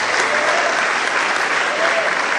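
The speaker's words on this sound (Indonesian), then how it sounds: "Tepuk tangan aja keras." High school students at a dialogue event with the Jakarta governor break into loud applause, a thick, continuous wash of many hands clapping that stays steady and close throughout.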